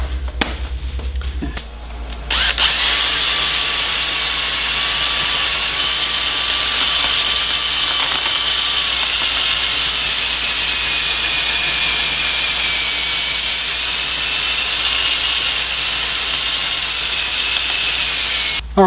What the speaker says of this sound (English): So I'm gonna power sand that off before I start hand sanding.